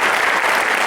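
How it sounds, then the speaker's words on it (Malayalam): A brief, loud burst of close, dense audience clapping for the Kisalaya group artists after their Thillana dance performance. "ഇവർക്ക് എല്ലാവർക്കും ചേർത്ത് ഒരു മികച്ച കയ്യടി"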